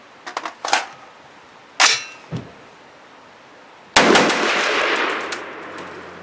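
A V Seven lightweight AR-10 rifle fires from a hex magazine: a few sharp close shots with metallic clanks early on, then a louder blast followed by a lingering ringing tail.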